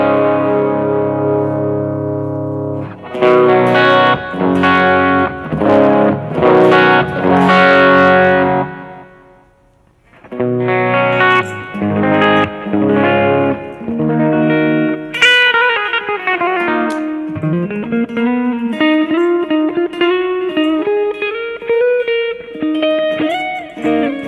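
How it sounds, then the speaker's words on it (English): Electric guitar played through a Roland Boss eBand JS-8 amp on a Modern Studio tone patch, distorted chords ringing with reverb, then a run of bending single-note lines. "the Modern Studio tone patch that we're in, if you play with the amps, you're creating different tones."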